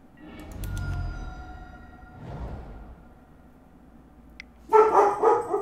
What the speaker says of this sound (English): Oh, dog. Oh, dog.